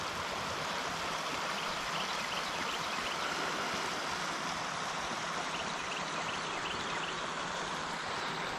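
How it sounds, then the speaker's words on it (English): Fast-moving stream water rushing steadily near a fishing spot, a dense, even hiss close by with no voices over it. "Try over here in this fast moving water."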